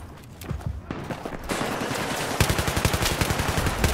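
Rapid automatic gunfire in the video game Battlefield 3, starting with scattered shots and building into a loud, sustained burst of fast, evenly spaced rounds close to the listener.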